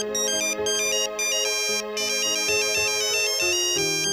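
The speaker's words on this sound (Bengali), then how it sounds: "অয়নের ফোন।" A phone ringtone plays alone: a bright, repeating electronic melody, loud and close, running continuously without pause.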